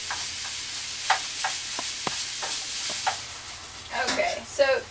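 Meat sizzles in a pan with a soft, steady frying hiss while a utensil stirs and taps the pan at intervals, ending in louder scraping, and a person speaks quietly.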